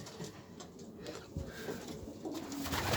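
Young pigeons coo softly inside a young bird loft, with several low, rolling calls repeating quietly against faint background rustling.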